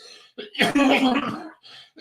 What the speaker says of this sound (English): I feel horrible coughing and I apologize